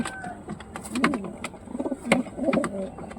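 Pigeons cooing inside a loft coop, soft throaty coos repeating in overlapping rhythmic bursts, close and moderately loud against a light background hiss.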